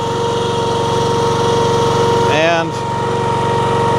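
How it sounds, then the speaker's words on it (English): Honda iGX390 engine on a Wolfe Ridge 17VS machine idling on low throttle, a steady close, loud rumbling drone with a brief whining shift partway through as the throttle is changed; a short spoken word is heard. "put it on low idle"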